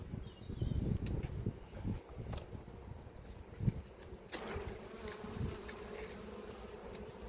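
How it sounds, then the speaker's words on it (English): Honeybees are shaken off a hive frame in an apiary, and a swarm of them buzzes close by in uneven, pulsing waves. Several soft knocks are heard, then a brighter, busier hum takes over partway through. "So I just need to shake these bees off."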